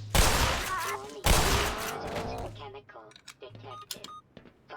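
Shotgun blasts go off in Black Mesa: two loud, booming shots about a second apart, each trailing into reverberation, followed by clicks and clatter of reloading and shifting gear.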